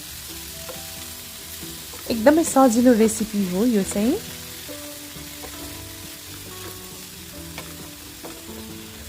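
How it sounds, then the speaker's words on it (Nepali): Rayo greens (mustard greens) fry gently over a medium flame and are stirred in a pan, giving a soft, steady sizzle beneath a brief spoken remark. "यसलाई बिस्तारै भुट्दै पकाउँदैछु।"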